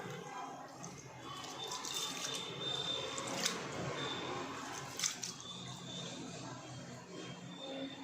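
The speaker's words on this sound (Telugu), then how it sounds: "నేను టూ గ్లాసెస్ బాస్మతి రైస్ తీసుకున్నాను శుభ్రంగా వాష్ చేసుకోవాలి త్రీ టైమ్స్ వాష్ చేసుకోవాలి" Basmati rice is washed in water, a steady wet sloshing and rinsing with small splashes and drips continuing throughout at low volume, with no talking.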